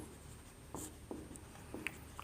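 Chalk or marker scratches on a board during a Hindi-language class 11 chemistry lesson on bond length, several short, faint, separate strokes over quiet room tone.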